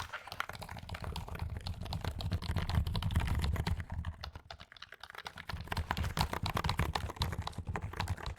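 Rapid, continuous clacking of keystrokes on a cheap computer keyboard, close and fairly loud, with dense overlapping key hits throughout and no voices.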